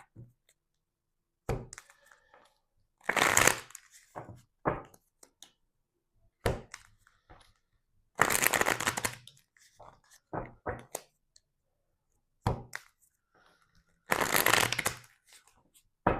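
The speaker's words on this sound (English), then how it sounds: "I'm just going to keep shuffling here" Tarot cards are shuffled in several short riffling bursts, crisp and close, separated by quiet pauses and scattered light clicks.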